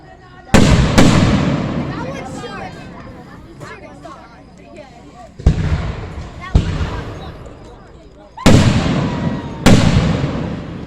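Fireworks burst at an Independence Day show in Minersville, several loud booming explosions in clusters with crackling tails, while nearby spectators chat throughout.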